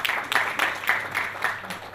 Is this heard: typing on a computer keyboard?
no